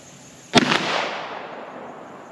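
A single 12 gauge shotgun blast, sharp and loud, followed by a long fading outdoor echo.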